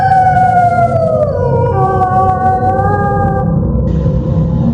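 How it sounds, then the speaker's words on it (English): A drawn-out, wavering howl like a coyote's cry rises and slowly falls, loud and sustained over a low rumbling backdrop, used as an eerie sound effect in a western horror tale. "followed by the occasional cry of a coyote, only it didn't sound like a coyote"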